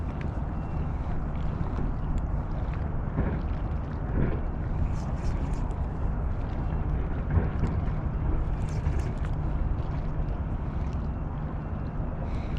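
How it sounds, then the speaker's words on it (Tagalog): Steady, broad rumbling wind buffets the microphone outdoors while fishing, constant and fairly loud throughout, with faint water and boat-like noise underneath and no clear talk. "Ganun na yung hangin, oh."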